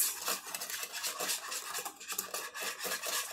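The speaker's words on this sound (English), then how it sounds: "So I'm just going to whisk that together." A whisk scrapes rapidly against a pressure cooker pot while flour is beaten into bubbly stew liquid for an Irish beef stew, a close, rhythmic rasping with quick, uneven strokes.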